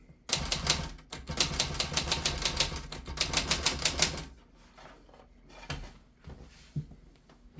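Brisk typing on an Olivetti Underwood 21 manual typewriter whose loose feet make it louder, a fast run of sharp close keystrokes for about four seconds, then a few scattered quieter clacks and knocks.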